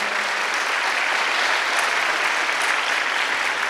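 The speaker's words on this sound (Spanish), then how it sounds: "Un aplauso para ellos, los hermanos." A Catholic church congregation at Mass in Paraguay claps together in a thick, even wash of applause that holds steady throughout, loud and close with no voices on top.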